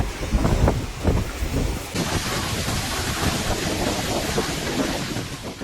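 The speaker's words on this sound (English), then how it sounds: "Waves crashed against coastal cliffs, sending seawater spray toward buildings and windows." Typhoon Dolphin drives heavy surf against coastal cliffs in southern Japan, making a loud, continuous roar of crashing waves with strong wind buffeting the microphone and surges of booming water.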